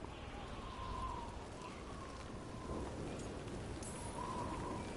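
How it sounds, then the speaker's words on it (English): Steady rain dripping in the fantasy video game Dragon Age: The Veilguard, a constant soft patter filling the scene from start to finish, with faint background tones and a brief chime. "Drip rain, not mist rain."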